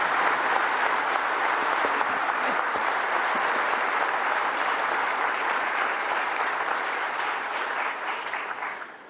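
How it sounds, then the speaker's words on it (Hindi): An audience applauds children at a national energy conservation awards ceremony, steady dense clapping that holds for several seconds and tapers off at the end. "बच्चों के लिए तो थोड़ा ताली हो जाए।"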